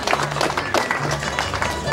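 Crowd applause at a village patronal fiesta in Andahuaylas honoring San Miguel Arcángel, scattered clapping mixed with crowd noise and a low droning tone underneath.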